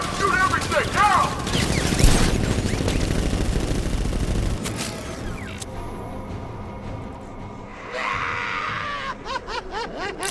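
Gunfire from Batman: Arkham Knight, a loud sustained barrage of rapid shots over the first few seconds with game voices and effects, thinning into scattered bursts and clatter later on.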